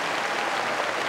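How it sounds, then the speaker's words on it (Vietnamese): Studio audience at a 2004 Vietnamese televised comedy anniversary show applauding, a dense steady wash of many hands clapping at close range, with no voices over it. "Vỗ tay như thế này mà lại bảo thôi à?"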